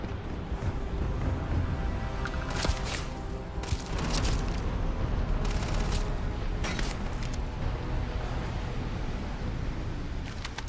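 A grenade goes off amid a Starfield firefight, heavy booming blasts and bursts of gunfire layered over a constant dense rumble, loud and continuous throughout with sharp cracks punching through.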